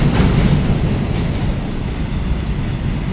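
Indian Railways goods train wagons rolling past on the rails, a loud continuous rumble with rhythmic clickety-clack of wheels over rail joints, close by and with no talk.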